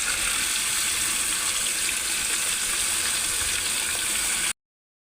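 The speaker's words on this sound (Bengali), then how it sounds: "এবার আমি কড়ার মধ্যে আলুটা ছেড়ে দিচ্ছি।" Cut potato pieces fry in hot oil in a wok, a dense, steady, loud sizzling hiss that continues unbroken before cutting off abruptly.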